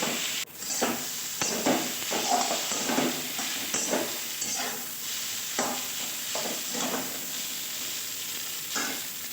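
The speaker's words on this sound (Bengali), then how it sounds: "মিডিয়াম ফ্লেমে রেখে তোমাকে এই ম্যাগিটা ফ্রাই করতে হবে" Maggi noodles frying in a pan over a medium flame, with a steady close sizzle and repeated scraping stirs throughout.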